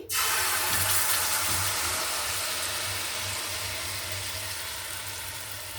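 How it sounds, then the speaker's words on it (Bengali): Liquid poured steadily in a home kitchen while a simple snack is being made, a continuous close rushing pour that starts abruptly and runs without pause, with a low hum underneath. "এটা আমি এখন ঢেলে দিচ্ছি"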